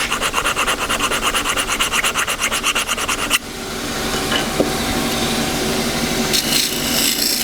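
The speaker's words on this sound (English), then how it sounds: "so I'm just going to hone up the bottom, hone up the edge." A woodturning tool edge is honed in about a dozen quick, regular back-and-forth rasping strokes, close and loud, before giving way to a steady whirring hum in the workshop.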